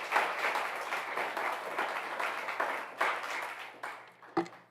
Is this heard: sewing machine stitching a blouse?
no